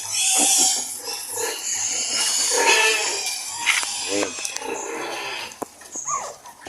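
Newborn puppies whimper and squeak in high, thin cries that overlap in a continuous stream, close and fairly loud, with faint animal grunts underneath.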